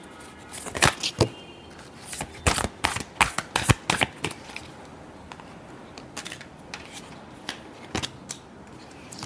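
Tarot cards being shuffled by hand, a final shuffle before a reading; a series of quick crisp riffling and snapping bursts, close and moderately quiet, with pauses between.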